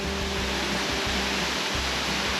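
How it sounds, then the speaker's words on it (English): Waterfall on the NSW South Coast, heard from partway down the falls, a dense, steady rush of falling water filling the space close by with no gaps. "We're sort of at the, I guess, the halfway point of the waterfall."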